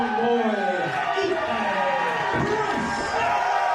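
A wrestling crowd gives Ethan Price an ovation, a steady wall of cheering and whooping that carries under continuous commentary.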